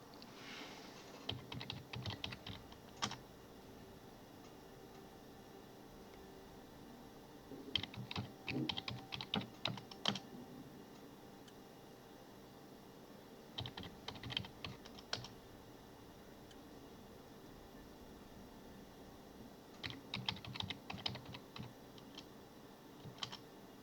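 Bursts of typing on a computer keyboard as commands are entered, with quick key clicks in clusters separated by pauses, close and fairly quiet over a faint background hum.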